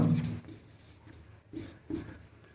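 Writing strokes during a Class 10 maths lesson on irrational numbers, likely chalk or marker on a board: a few brief scratchy bursts with quiet gaps between them, close by and faint, with no talk over them.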